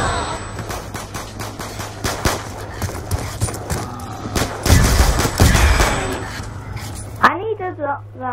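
Heavy gunfire in Black Ops 2 Zombies, a dense stream of overlapping shots under a steady game hum, with someone talking over the firing and a brief cut to other game sounds near the end.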